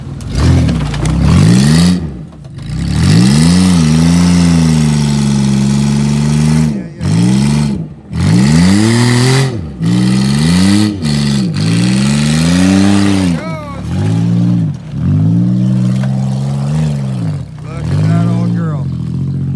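Damaged Chevrolet Malibu with a blown tire and hanging muffler after a big jump, its engine revving hard in repeated loud bursts with brief drops between, someone talking over it.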